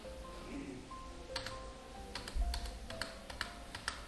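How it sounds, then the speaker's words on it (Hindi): Computer keyboard keys pressed while working in accounting software, with scattered quiet clicks early and then a quicker run of sharp taps, close and faint, over a low background hum with no talking. "अब एंटर प्रेस करके हम नीचे आएंगे"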